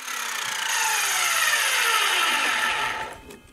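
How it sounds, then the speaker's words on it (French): A multi-material saw bites through nailed wood and into metal, giving a loud, steady whining cut that holds for about three seconds and then drops away as the blade exits. "la machine, celle-ci rentre dans le bois, puis dans le métal, et puis ressort tranquillement"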